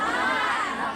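A Sundanese religious lecture audience shouts back in reply to a greeting, a brief, loud burst of many voices calling out together, fading slightly at the end.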